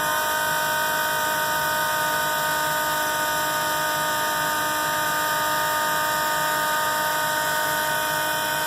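A macerator pump emptying RV holding tanks into a toilet, a steady high-pitched electric whine with a constant buzzing drone, unchanging and loud throughout.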